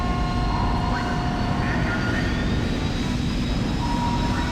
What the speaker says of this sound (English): Craft departing.